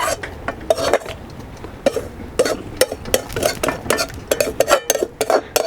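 Metal utensil scraping roasted vermicelli out of a pan, a rapid series of loud, close scrapes and clanks in an uneven rhythm with short pauses.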